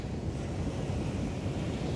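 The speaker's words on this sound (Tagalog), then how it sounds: "dito kami sa tabing dagat" Steady wind rushes over a seaside beach with the wash of waves beneath it, a continuous broadband roar at even loudness with no voices present.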